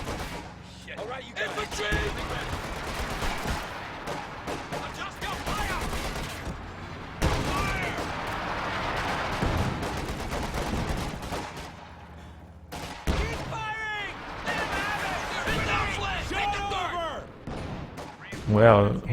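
Artillery barrage in the Company of Heroes 2 strategy game, heard as dense, scattered volleys of explosions and gunfire rolling on and off throughout, with a commentator's voice talking over much of it.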